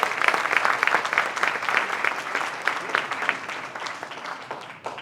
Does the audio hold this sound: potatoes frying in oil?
no